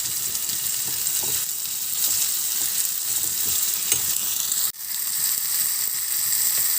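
Crushed green chillies fry in a pan for an egg curry, giving a steady, close hiss of sizzling with a few light scrape-like ticks. A brief dip interrupts the sizzle before it resumes at full strength.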